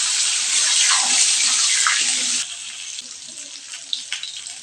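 Cut potatoes hitting hot oil in a pan, a loud hissing sizzle that settles into a quieter steady frying crackle with a few small pops.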